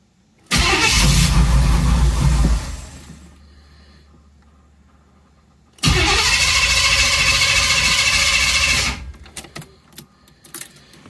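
A car with freshly cleaned spark plugs cranks hard and loud for about two seconds, falls quiet, then cranks again for a few more seconds before stopping, followed by faint clicks and small noises.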